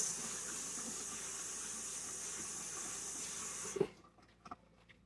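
Running tap water pours steadily as vegetables are rinsed under the faucet, a constant hissing flow that stops abruptly near the end, followed by a few faint clunks.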